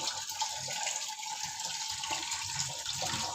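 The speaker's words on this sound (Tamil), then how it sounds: "குழாய் தண்ணீல நல்லா கழுவி எடுத்துக்கிட்டேங்க" Wild mushrooms rinsed under a running kitchen tap, with a steady, fairly soft rush of water splashing continuously throughout and no talking.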